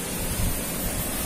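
A river at Panjalu, Ciamis, rushing beneath a bridge, producing a loud, steady broadband roar of flowing water that never lets up, with no voices over it.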